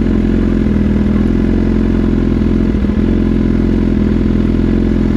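A BMW S1000RR motorcycle cruises through Manhattan streets, its engine droning steadily and loud throughout with a brief clattering bump near the middle, no talk over it.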